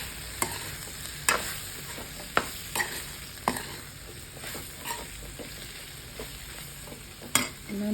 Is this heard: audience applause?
no